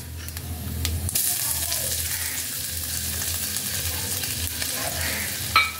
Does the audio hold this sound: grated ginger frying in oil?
yes